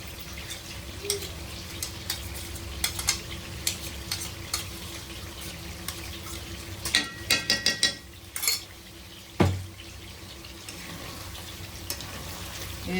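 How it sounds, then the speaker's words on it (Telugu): Chicken frying in a pan with green chilli paste being added and stirred, a continuous sizzle under a burst of rapid scraping and clattering of a spoon against the pan, then one heavier knock. "ఇప్పుడైతే ఇగో సూపర్గా ఫ్రై అవుతున్న చికెన్లో ఈ పచ్చిమిర్చి పేస్ట్ అనేది మనం వేసేస్తున్నాం"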